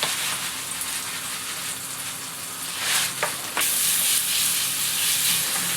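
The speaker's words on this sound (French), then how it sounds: "je mets mes petits morceaux de pommes à cuire dans du beurre" Small apple pieces cooking in melted butter in a pan, a loud, dense sizzle and hiss that holds steady, then swells sharply brighter partway through and stays intense.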